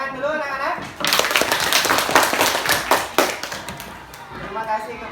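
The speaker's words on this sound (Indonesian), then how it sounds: "Tepuk tangan dulu anak-anak." Children clapping in a classroom, a burst of uneven hand claps lasting about three seconds, with a teacher's voice before and after.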